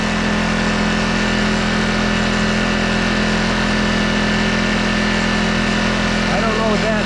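A small homestead engine runs steadily after being started on choke, a loud, continuous droning idle from start to finish with a brief voice near the end.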